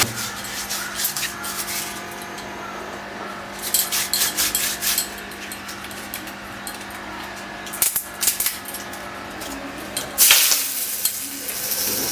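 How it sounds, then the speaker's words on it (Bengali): Eggs fry in a pan with a continuous crackling sizzle. Bursts of louder spattering and stirring scrapes come through, and there are a few clinks along the way. "আগে ডিমগুলো আমি ভেজে নিচ্ছি"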